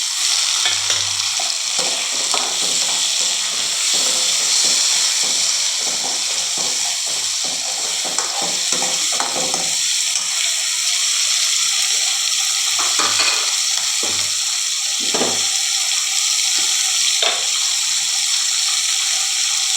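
Tomatoes sautéing in a pan for a dried fish curry, a steady loud sizzle and crackle throughout, broken by repeated scraping stirs of a utensil against the pan, with no talking.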